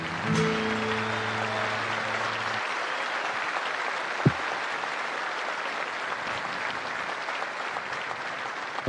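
An audience at a rodeo ceremony during a national rodeo championship breaks into sustained, broad applause that fills the whole stretch, loud and steady, with a brief tonal note from a sound system at the very start.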